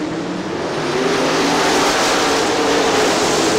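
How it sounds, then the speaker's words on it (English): Super late model race cars roar around Crystal Motor Speedway in Michigan, a loud, continuous engine howl that swells slightly as the pack drives by, with no talk over it. "Jeff Kohn in the number 25 car."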